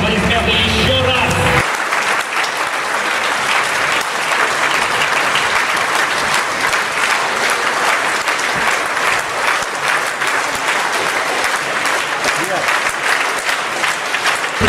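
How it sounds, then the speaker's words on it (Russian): Concert audience applauding at a ballet and opera gala, a dense, loud, sustained roar of clapping that swells after a brief opening moment and carries on evenly for many seconds. "Ваши аплодисменты еще раз."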